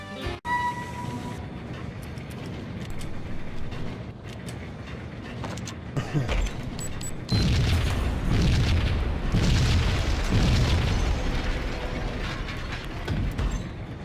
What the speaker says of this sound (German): Oh, schießt einer.